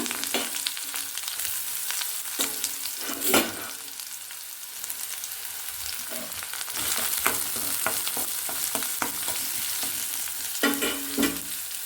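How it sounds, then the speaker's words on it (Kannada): Finely chopped onions fry in a pan, a continuous close sizzle with bursts of spatula stirring and scraping scattered throughout, and no talking. "ಇವಾಗ ಇದಕ್ಕೆ ನಾನು ಈರುಳ್ಳಿನ ಹಾಕ್ಕೊಳ್ತೀನಿ."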